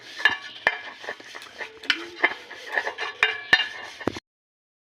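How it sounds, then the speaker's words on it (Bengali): Something is rubbed and spread with two drops of white oil around the inside of a silver metal bowl while a Christmas cake is being made, giving a string of light scraping and clinking scuffs with sharp metallic ticks, close by and without talk. "একটা আমি সিলভারের বাটি নিয়েছি, এখন আমি 2 ফোঁটা সাদা তেল দিয়ে মেখে চারিদিকে মেখে নেব।"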